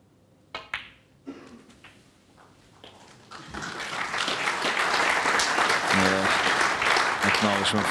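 A snooker crowd at the World Championship bursts into applause that swells from a few early claps into loud, sustained clapping filling the hall.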